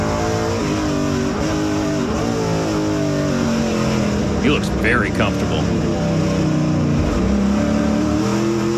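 Onboard NASCAR Pinty's Series race car number 47 at a road course, its engine droning loud and steady with shifting revs throughout while a commentator talks over it.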